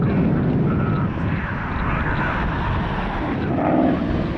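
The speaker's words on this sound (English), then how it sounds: "Sun Country 378, outbound to Minneapolis." A Sun Country airliner departs outbound to Minneapolis from RSW airport, heard as a steady, loud, broadband engine roar that fills the whole stretch without letup, with some wind noise over the microphone.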